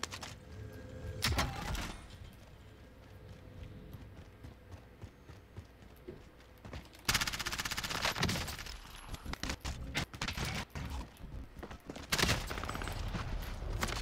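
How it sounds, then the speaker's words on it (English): Sniper rifle shots ring out in a video game, sharp loud broadband cracks near 1.3, 7 and 12 seconds set against a rumbling, clattery game background. "Somebody actually sniped me."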